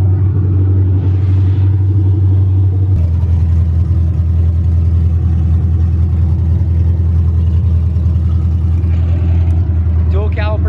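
LSX V8 engine swapped into a Nissan 240SX S13.5 idling rough and loud, a deep uneven rumble throughout with a slight rise in pitch partway through.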